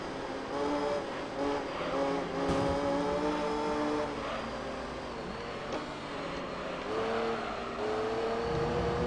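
Race car engines whine steadily as cars jostle and overtake in Gran Turismo 3 career mode, a continuous loud droning with shifting pitch and no talking.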